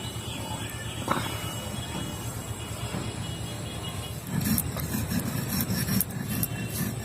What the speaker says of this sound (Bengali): এই চালটা আমি এবার আধ বাটা করে নেব শিলে।